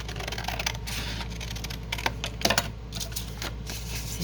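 Scissors cutting paper to shape a junk journal envelope, a series of soft, close snips and crisp paper rustles with sharper clicks around the middle, no talking.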